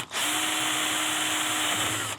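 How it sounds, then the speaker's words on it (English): A power drill whirs steadily at high speed for about two seconds, drilling out a broken brake bleeder screw, close and loud, starting and stopping abruptly. "we have to drill this out"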